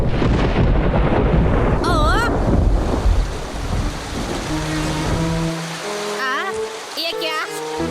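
Cartoon thunderstorm with a loud rumbling thunder roll and heavy rain, the storm dense and close, then cartoon voices and musical tones rise over the fading rain.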